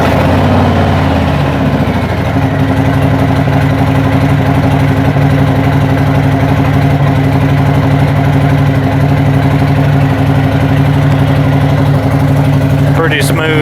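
A Harley-Davidson motorcycle engine idles loud and close with a steady, smooth rumble throughout, someone speaking over it.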